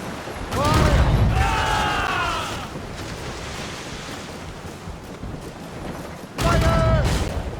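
Naval cannon fire during a sea battle in the video game Assassin's Creed Rogue, with loud booming blasts at the start and again near the end over steady ocean surf and wind, while voices shout orders in between.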